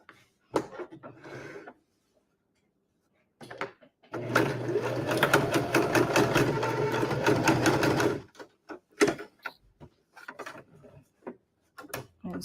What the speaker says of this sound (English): I'm going to sew my 1/4 inch seams.